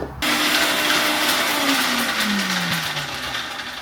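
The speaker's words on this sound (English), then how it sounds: "I'm going to grind this into a fine powder first." A kitchen grinder whirs loudly and steadily as it grinds garlic, ginger, cashew nuts and spices into a fine powder, its motor pitch slowly falling over several seconds.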